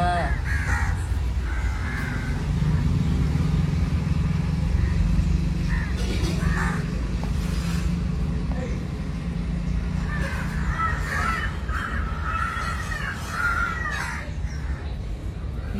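Crows caw in repeated bursts on a morning outdoors, somewhat distant, over a steady rumble of passing traffic and engines, with people talking nearby at times.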